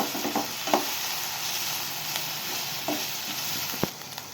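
Tomatoes sauté in a pan as filling for stuffed paratha, a constant dense sizzle with a few faint stirring scrapes and one brief knock, close and loud, with no voices.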